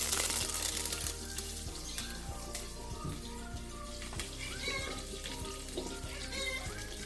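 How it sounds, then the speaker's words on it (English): Curry leaves crackle and sizzle in hot oil with fennel, cloves and cinnamon for a fish gravy, a dense steady frying hiss with scattered pops close by. "Then I am adding the curry leaves."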